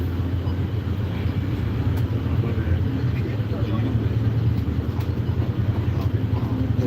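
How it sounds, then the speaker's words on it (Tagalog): Dense motorbike traffic on a Ho Chi Minh City (Saigon) street forms a steady, close engine rumble and drone. It runs unbroken for the whole stretch with no clear pauses. "Grabe motor dito sa Ho Chi Minh,"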